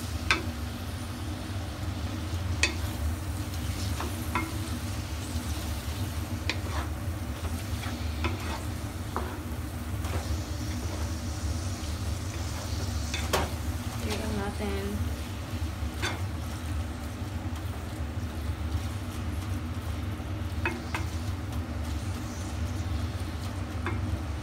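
Hayashi rice sauce bubbling and sizzling in a pan while being stirred, a faint steady fry under occasional light scrapes and clicks of the utensil.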